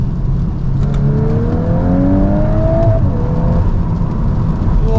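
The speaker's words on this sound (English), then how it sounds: "it lets you rev all the way and bash off the limiter" An MK8 VW Golf R engine revs up in a rising drone toward the rev limiter, then the pitch drops back slightly and holds as the car keeps pulling under loud, constant road and cabin noise.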